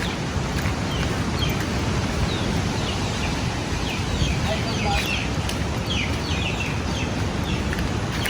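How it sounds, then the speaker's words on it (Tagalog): Chickens at a rural poultry farm cluck softly now and then amid steady wind, rain and rustling outdoor noise, with faint voices in the background. "Ito yung ating manok ng tambayan."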